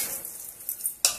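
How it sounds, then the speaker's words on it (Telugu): Vermicelli (semiya) being fried in a pot while making payasam gives a soft, faint sizzle with light crackles. It ends in a sharper stirring scrape just before the end. "సేమియాను కూడా కొంచెం దూరంగా వేయించుకోవాలి"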